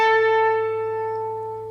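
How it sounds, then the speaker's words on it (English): Electric guitar playing a sustained octave in a song after releasing a palm mute, ringing bright and steady, close and alone, slowly fading over under two seconds. "you want to start pulling your palm mute off so that you can get back to that octave"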